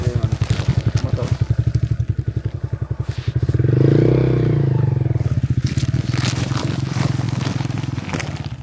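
A motorcycle engine close by, a rapid pulsing idle that swells into a louder rev for about two seconds, then settles back to a throbbing idle, with a voice speaking over it.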